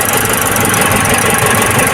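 Engine of a Nissan N350 truck left running during an oil flush at a change-oil service, a loud, close, steady rumbling idle with a faint knocking texture throughout, no voices.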